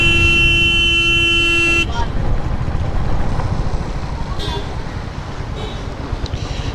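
Road traffic heard from a motorbike fitted with a GoPro: a sustained car horn blares loudly for the first couple of seconds, then rushing wind and engine noise carry on with fainter toots further off.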